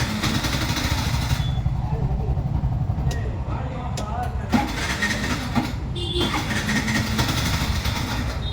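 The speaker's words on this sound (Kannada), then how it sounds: "ಸ್ಟಾರ್ಟ್ ಆಗುತ್ತೆ, ಮತ್ತೆ ಆಫ್ ಆಗಿಬಿಡುತ್ತೆ" A Bajaj BS6 motorcycle showing fault codes P0336, P0351 and P0352 starts and then stalls. Its engine note is close and uneven, cutting in and dropping out, with voices nearby.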